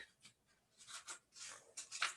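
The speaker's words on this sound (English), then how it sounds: "page turning here" Several quick papery rustles and flicks, like pages being turned in a book, close by and fairly quiet, coming in short irregular bursts.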